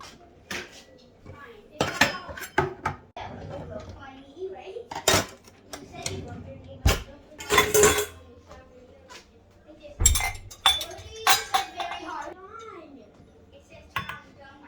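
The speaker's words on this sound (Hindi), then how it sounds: "बर्तन लगाते हैं फिर।" Dishes and cutlery clink and clatter as they are put away at home, in scattered sharp bursts of metal and glass. Someone speaks quietly between the clinks.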